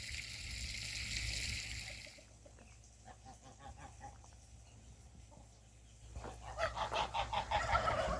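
Several geese honk in bursts by a pond, clearest and loudest toward the end, over a low background rumble and some splashy noise at the start.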